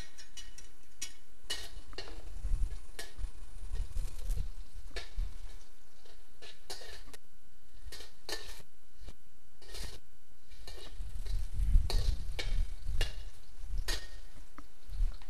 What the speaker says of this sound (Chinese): 爆香蒜碎